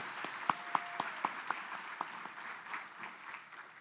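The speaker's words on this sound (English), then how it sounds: "give a round of applause for Stacy Sager and the work she's done" Modest audience applause, fairly quiet and sparse, with several distinct close claps near the start before the clapping thins into a soft, scattered patter.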